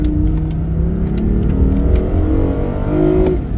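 A BMW i8 supercar under hard throttle, its engine droning loud and close in the cabin with pitch rising steadily as it accelerates from around 90, continuous and free of speech.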